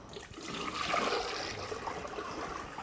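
Water drains out of a caravan's waste outlet in a steady, moderately quiet rushing gurgle that holds constant with no talk over it.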